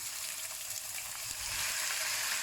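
Shallots and pork shoulder fry in caramel in a pan, giving a close, steady hiss and bubbling sizzle that grows slightly louder partway through. No talking is heard.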